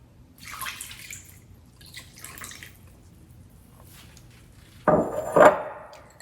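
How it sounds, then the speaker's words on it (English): Mashed sweet potatoes, honey and milk go into a bowl of cornbread batter. Soft scraping comes first, then two wet plops and splatters near the end. The kitchen is otherwise quiet, with no talking. "We're going to add in our sweet potatoes, honey, milk,"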